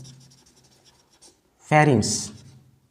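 A marker squeaks and scrapes across a classroom board in short strokes while a teacher talks, with one louder, sharper burst of writing near the end.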